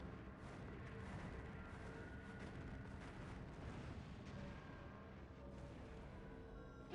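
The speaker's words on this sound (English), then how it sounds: "We're opening fire" Sustained barrage of unit gunfire and explosions in the strategy game Earth 2150, a dense continuous roar of booms and bursts with no pauses, loud and wide throughout.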